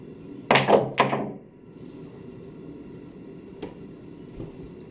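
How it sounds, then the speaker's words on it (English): On a billiards table, two sharp thunks half a second apart mark a cue striking a jump shot off the rail and the ball landing, followed by quiet room tone and a couple of faint later taps. "So I'll take a jump cut, and here's the shot."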